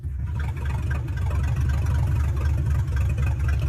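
A Chevrolet Vortec 4.3 V6 idles nearby in an old vehicle still being restored, making a steady deep rumbling drone with a smooth, even pulse and no talking.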